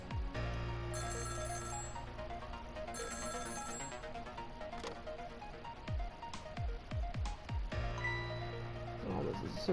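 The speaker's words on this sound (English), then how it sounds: "oh, it doesn't work if it's just ringing." A telephone rings in the video game Ghost Trick, with repeated bursts of a bright electronic ring over a steady layer of game music and sound effects.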